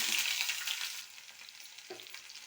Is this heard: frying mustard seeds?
yes